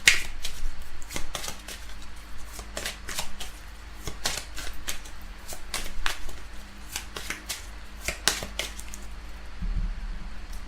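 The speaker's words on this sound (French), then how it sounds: "Alors, on va tirer quelques cartes." Tarot cards shuffled and drawn by hand: an uneven run of crisp flicks, snaps and riffles over about ten seconds, close and fairly loud, with no voice.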